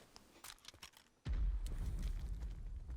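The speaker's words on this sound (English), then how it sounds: "We hear some explosions behind." Explosions rumble in a video game, a soft scatter of small thumps and footstep-like taps giving way to a sudden deep boom that rolls on as a sustained low rumble, distant and muffled.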